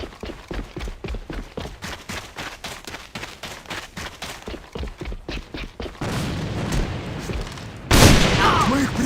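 Gunfire in the online shooter A.V.A, with rapid bursts of shots pulsing steadily before a louder, denser stretch of firing and an explosive blast near the end, with a voice faintly underneath.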